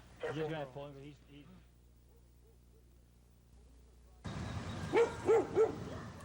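Stray dogs in a town area south of a bypass give several yelping, howling calls near the end, preceded by a brief burst of talk and a quiet gap.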